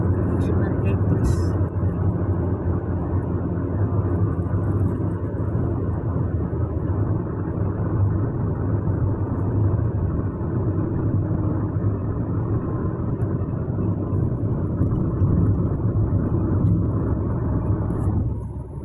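Heavy rush-hour road traffic heard from inside a moving car: a continuous low, droning rumble of engine and road noise that stays steady and fairly loud throughout.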